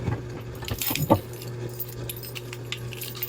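A bunch of keys jangles close by, a few quick metallic rattles and a sharper clink, then quieter handling against a low steady hum, with no one talking.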